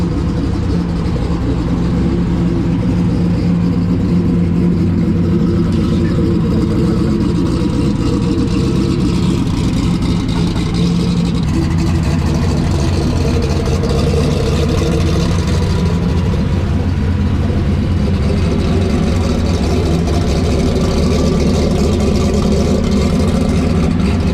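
A 2000-horsepower Foxbody coupe with a 98mm turbo runs loud and close, a deep rough rumbling idle that holds steady with slight swells and never dies away.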